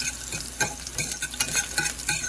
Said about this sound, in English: Over here, I have some green peppers in a pan frying up.